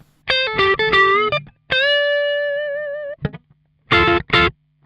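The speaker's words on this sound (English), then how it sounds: "So now with this overdrive, you can hear already that we are closer to the sound of the guitar solo." Distorted electric guitar through a MOOER GE200 overdrive preset, in a solo tone, plays short phrases and a long sustained note with vibrato, gritty and clear, with gaps of silence between.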